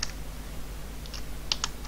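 Keys tapped on a computer keyboard while entering a command, a sparse run of light clicks at close range, a few sharper strokes near the end over a low steady hum.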